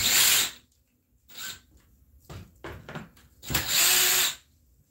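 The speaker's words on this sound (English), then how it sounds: "I'm gonna go ahead and unscrew all this." A power drill unscrews screws from a bonsai pot mold in several short, whirring bursts separated by quiet pauses, loud and close, with the last burst running longest.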